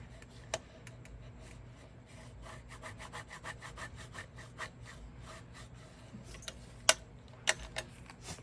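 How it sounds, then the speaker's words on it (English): Paper being burnished down with repeated rubbing strokes, a book page pressed onto a paper craft tag, quiet and close with a few sharper taps near the end. "Going to burnish it down."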